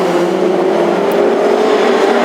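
Classic hot rod race cars lap a track during a final at Hednesford, their engines a loud, steady, close drone that holds an even pitch throughout with no break.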